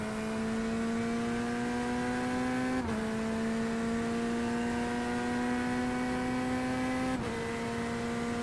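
Race car engine in the iRacing sim at Daytona, IMSA race, holding a steady high drone with a sustained whine and two brief dips where the pitch resets on upshifts, loud and continuous with no talk.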